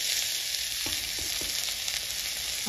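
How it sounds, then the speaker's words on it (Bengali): Potatoes fry in a pan with a constant bright hiss of oil, and a few soft knocks of stirring or turning sound through the sizzle. "আলু ভাজা করছে"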